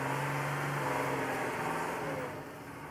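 A Mercedes Unimog's engine labors steadily as the vehicle climbs a steep 60% slope with steps, a continuous mid-pitched drone that eases slightly toward the end.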